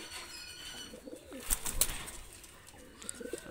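Two domestic pigeons kept for sale coo close by in short rolling calls, with a burst of sharper clicks and rustling near the middle and faint chirps toward the end; no one speaks.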